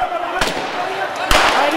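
Two sharp bangs about a second apart cut through a noisy street scene as police open fire during unrest, with a crowd sound filling the gaps between the shots.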